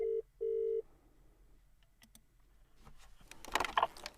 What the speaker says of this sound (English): you can see the phone is ringing